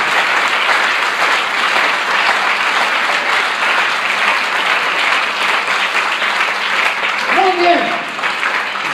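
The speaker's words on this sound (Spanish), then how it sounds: "Por eso le damos ese tremendo aplauso al Rey de Reyes" Church congregation breaking into loud, sustained applause, dense clapping that continues without a break, with a brief voice or cheer rising near the end.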